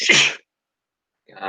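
One sharp sneeze bursts out at the start, followed by a short silence and then a brief spoken reply.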